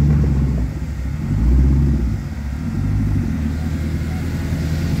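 A Cadillac with a thick, chunky aftermarket exhaust from a muffler shop rumbles and revs, a deep steady low growl that swells briefly before settling back to a close idle.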